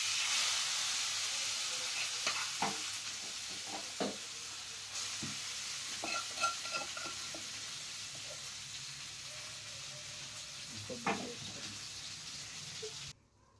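Chicken burger mixture frying in oil, a soft continuous sizzle with intermittent scraping stirs and clicks of a spatula against the pan, quiet and close, ending abruptly.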